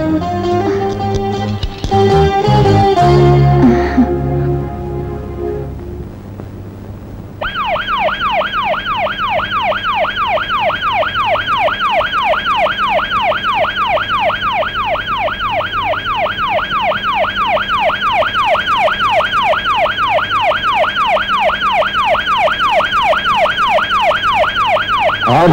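An ambulance siren wails loud and close, a steady, fast rising-and-falling tone that keeps cycling without a break for about twenty seconds. A short burst of music comes before it.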